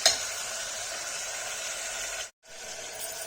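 Potatoes frying in a pan for a Kashmiri tomato and potato curry, giving a steady, close sizzle and hiss that cuts out briefly before carrying on.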